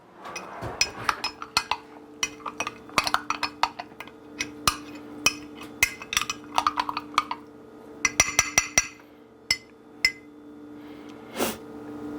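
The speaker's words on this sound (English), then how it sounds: "Let me get a spoon here and mix this up a little bit better" A metal spoon stirs food in a dish, making a quiet run of sharp clinks and taps in uneven clusters against a faint steady hum, with no talking.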